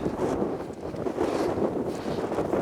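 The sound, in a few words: wind blowing on a mountain path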